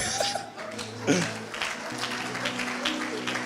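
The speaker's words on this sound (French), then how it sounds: "Acclamez." An audience at a French-language prophetic testimony gathering applauding, a moderate patter of clapping mixed with a little laughter and voices, steady across the clip.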